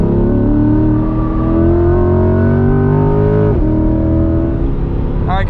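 A 2021 Chevrolet C8 Corvette Z51 on a race track, its engine loud and close, revving up through rising pitch, briefly dipping at a shift, then climbing again.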